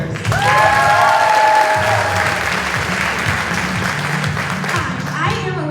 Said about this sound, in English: hands together and give a big cheer for our outgoing 2024 title holders